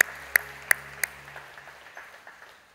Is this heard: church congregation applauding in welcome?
yes